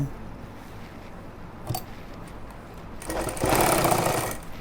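A sewing machine stitches a pajama pocket in one short, close, buzzing run near the end, after a stretch of quiet handling noise and a light tap.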